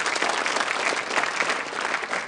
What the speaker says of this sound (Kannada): ಅವ್ರಿಗೊಂದು ಚಪ್ಪಾಳೆ